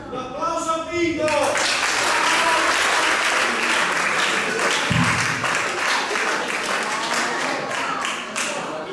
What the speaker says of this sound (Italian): Un applauso a Vito!